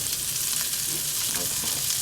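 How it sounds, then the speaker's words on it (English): Homemade meatballs sizzle steadily in a pan, giving a loud, close, continuous frying hiss with faint stirring. "we're gonna let these three just sizzle a little bit longer"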